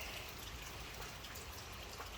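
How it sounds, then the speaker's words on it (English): Rain falling outdoors on a humid day, a faint, even hiss of drops with soft patter on surfaces, continuous and distant-sounding with no voices. "it is raining"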